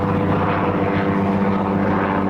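A helicopter passes overhead with a steady, loud droning rotor and engine hum, continuous throughout with no speech.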